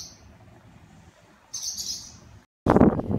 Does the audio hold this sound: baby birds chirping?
yes